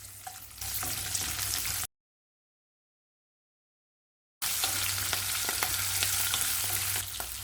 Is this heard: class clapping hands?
no